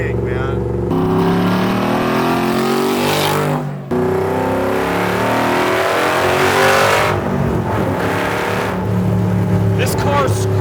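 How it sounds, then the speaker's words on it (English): A Superformance MkIII Cobra R with a 5.2-litre Aluminator V8 making 580 hp revs hard and close. Its loud, rasping engine note climbs and drops through repeated blips, with a brief cut partway through. "This car screams."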